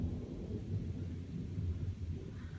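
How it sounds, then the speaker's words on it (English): A deep, continuous rumble of thunder rolls through a thunderstorm, low and distant, swelling and fading over a few seconds with no voices. "We're having a thunderstorm here"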